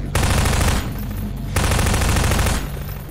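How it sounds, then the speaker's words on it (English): Gunfire in the video game Half-Life 2, with loud, dense automatic bursts rattling in two long volleys separated by a brief lull, close and alone with no voices. "Somebody else shooting?"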